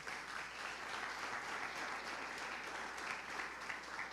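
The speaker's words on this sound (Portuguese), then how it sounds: "Aplauda o Senhor." Steady applause fills a church as the congregation claps during a sermon, a moderately distant, uniform wash of many hands with no voices over it.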